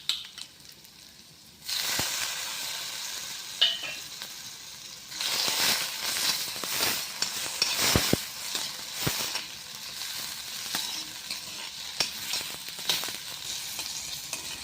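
Onion and tomato fry in a pan for a vegetable dish, with a quiet opening and then a steady close sizzle broken by spatula scrapes and stirring clicks, without any talking.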